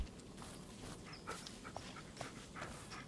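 A dog pants softly in the Blair Witch video game, short breathy puffs recurring at a steady pace over a dim, noisy forest ambience with occasional faint footstep-like sounds.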